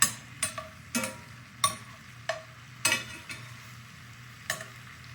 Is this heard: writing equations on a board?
no